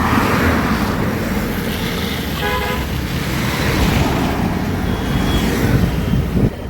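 An electric scooter running on a 60-volt lithium battery rides along and gathers speed, giving a steady broadband road and wind rush with a faint whine throughout, and no voices.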